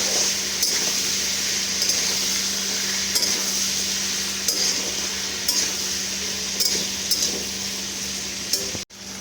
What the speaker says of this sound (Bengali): তারপর সব কিছু ভালো করে আমি মিশিয়ে নেব